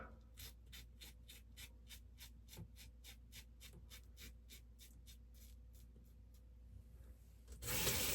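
A Tedalus Velocity One safety razor scrapes across stubble in about twenty quick, evenly spaced strokes, each a crisp rasp close to the mic, ending in a brief rush of noise.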